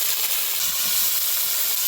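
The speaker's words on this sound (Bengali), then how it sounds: "তার জন্য কড়াইতে তেল দিয়েছি, তেলটা গরম হয়ে গেছে। এবার কেটে ধুয়ে রাখা ফারাস আলুটা দিয়ে দেব।" Cut green beans and potatoes dropping into hot oil in a wok, a steady, loud broadband sizzle and hiss held evenly throughout.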